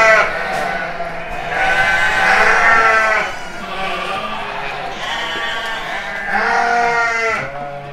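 Several sheep bleat in a feeding pen at a livestock farm, their wavering calls rising and overlapping in loud bursts throughout, close by with faint background murmur.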